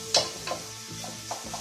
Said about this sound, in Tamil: நல்லா ப்ரௌன் கலரில் வர வரைக்கும் வச்சு கிண்டிக்கிட்டே இருக்கும்.